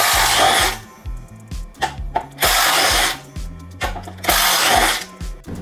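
A Bosch GDX 18V-200 cordless impact wrench loosens wheel bolts in loud, close bursts of rapid hammering, three long runs broken by shorter blips and pauses.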